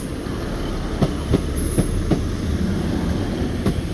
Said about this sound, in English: What's this train?